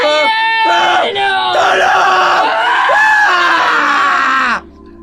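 A person in a Filipino aswang horror audio drama screams in agony, loud and sustained for about four and a half seconds with cracking, wavering cries, then cuts off abruptly into quiet.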